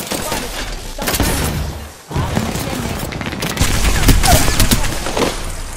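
Rapid gunfire bursts from the video game Apex Legends, loud and close, in dense volleys with a brief lull, mixed with game effects and a voice calling out.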